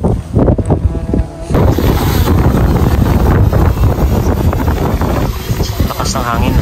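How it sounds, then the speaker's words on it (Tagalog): Strong wind buffeting a microphone outdoors on Itbayat island, a loud continuous roaring rumble with gusts, while people talk beneath it. "Lakas ng hangin."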